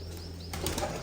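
A burst of wing flaps as a pigeon takes off, a quick flurry of soft fluttering over a steady low background hum.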